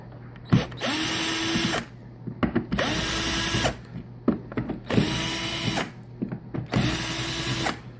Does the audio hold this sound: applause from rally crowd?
no